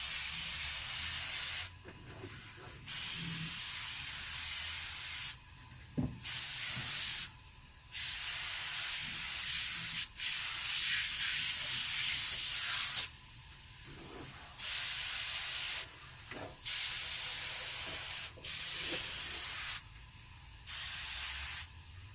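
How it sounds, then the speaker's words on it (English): Chrome and glass cleaner is sprayed from a trigger bottle onto an early-1930s Coleman 228B lantern in a series of short, sharp hissing bursts with pauses between them, close and fairly loud. "I'm just going to spray this down with some chrome and glass cleaner."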